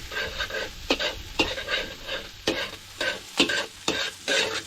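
Squid sizzles and fries in a pan for ginataang pusit with plenty of garlic, a close, steady crackle broken by regular scraping strokes of stirring, about one every half second.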